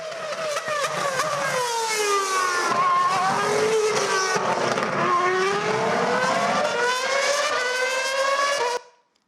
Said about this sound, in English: So this is actually a Formula One car, as I was talking about, right?